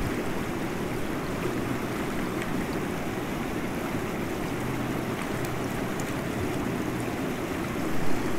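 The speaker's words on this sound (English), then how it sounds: "I love how you can sit right next to this running water and it's almost still." Running water of the American River rushes steadily close by at a gold-panning spot, a continuous broadband wash with no voices, holding level throughout.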